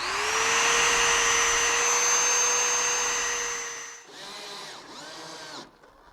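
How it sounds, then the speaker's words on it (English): A power drill bores holes in a wooden bed side rail, its steady whine running for about four seconds before two short, separate bursts, close and fairly loud with no voices. "Now all we have to do, drill the holes and finish mounting up the hardware."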